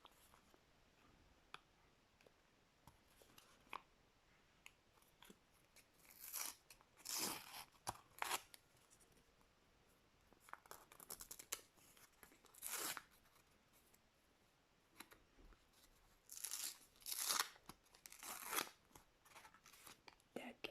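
A plastic packet from a collectible plaster set crinkles and tears open in several bursts of crackling, close and quiet, with pauses between them.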